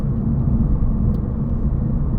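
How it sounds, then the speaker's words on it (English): Steady low road rumble and tyre roar from inside a moving Toyota Yaris, constant and fairly loud with no voices. "You can probably hear the tyre noise now in my Yaris."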